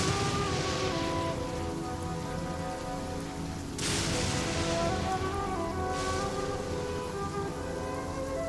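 Steady heavy rain hisses throughout a video game scene, loud and continuous with a brief dip partway, no voices over it.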